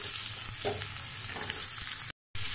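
Chopped onions and potatoes for aloo posto fry over high flame in a pan, making a close, dense, continuous sizzle with faint stirring scrapes and a brief dropout near the end.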